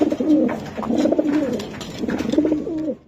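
Budapest racer pigeons cooing close by in a continuous run of soft, throaty, rolling coos with a short pause midway.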